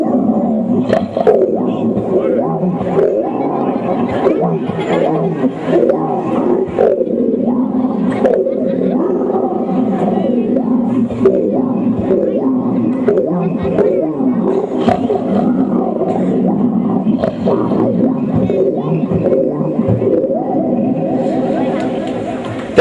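A male mimicry comedian imitates a lion's roar, a long, loud, rough growling voice that rises and swells for over twenty seconds and blends with talk throughout.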